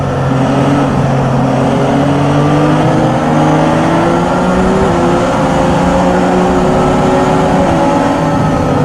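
An F1 car engine in F1 2017 revs high and climbs through the gears, its pitch rising in repeated sweeps with a loud, steady drone throughout and no talking.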